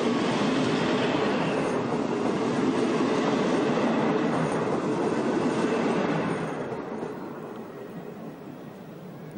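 Steady close roar of an older ÖBB train rolling along a local railway line in the Salzkammergut region of Austria, with clattering wheels on rails, easing off and fading after about six seconds.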